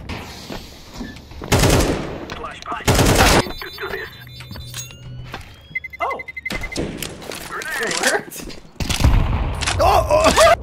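Counter-Strike gameplay gunfire comes as loud bursts of rapid shots and single cracks separated by quieter stretches, with game effects and excited voices between the volleys.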